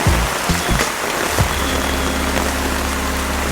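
A downpour keeps up a constant wash of rain noise, and a low steady hum joins in partway through.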